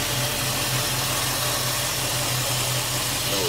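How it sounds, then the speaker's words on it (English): A 1999–2004 Jeep Grand Cherokee WJ with the 4.7 V8 idles steadily up close, a low, even rumble with a faint pulsing throb and no voices over it. "So now the engine is, you know, running"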